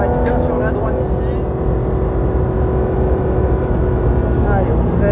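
Porsche 911 GT3 RS accelerating on a race circuit, a loud continuous engine roar heard from inside the car with a rising tone, while a driver and instructor talk over it.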